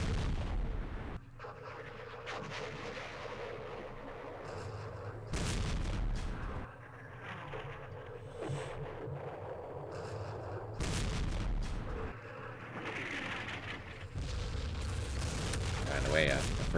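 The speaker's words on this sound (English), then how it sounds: "these are six strength point batteries that are hitting now" Artillery barrage from six-strength-point batteries in the Vietnam war game Campaign Series Vietnam, heavy low booms rolling in repeated bursts over a steady rumble, fairly loud and continuous.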